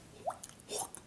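A mouth imitating a water drip in beatbox style: two quick, wet, upward-sliding plinks, close and fairly quiet.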